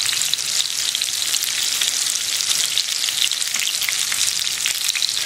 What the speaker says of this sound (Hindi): इसमें ये जो हमने कोफ्ते बनाए ये डाल देंगे, और इन पर अब हम गोल्डन कलर आने तक फ्राई करेंगे